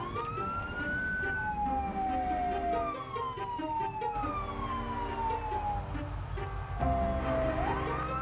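An ambulance siren wails with repeated descending tones while the vehicle drives in a zombie survival video game, steady and prominent over a low engine rumble.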